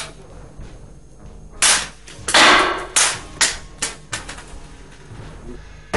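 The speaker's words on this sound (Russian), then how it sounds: "Пистолет бесшумный, самозарядный, специальный" Silenced self-loading special pistol firing a rapid series of about eight suppressed shots, each a short dry crack with mechanical clatter, close and alone.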